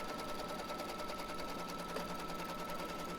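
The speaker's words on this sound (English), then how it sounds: "Then it's just going to stitch around that outer part." A Kimberbell embroidery machine stitches around the outer part of a design, giving a steady, continuous mechanical whir with a fast needle rhythm, close and even throughout with no talking.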